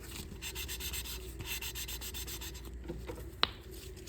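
An engine valve being lapped against its seat with a lapping tool makes a soft, steady rubbing and grinding as it turns back and forth, fairly quiet, with a single sharp tap near the end.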